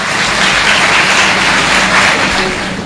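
An audience applauds a participant at a Kashmir Day speech competition, with dense, loud, sustained clapping from a crowd that holds steady for about three seconds and eases slightly at the end.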